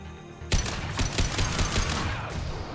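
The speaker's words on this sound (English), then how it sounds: "Firing an impact shot." Sci-fi impact shot fired in the video game Mass Effect 2, a loud sudden blast followed by a rapid burst of sharp repeated shots and rumbling echo, close and dominant with no talking.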